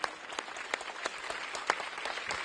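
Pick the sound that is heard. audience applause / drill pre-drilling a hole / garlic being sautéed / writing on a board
audience applause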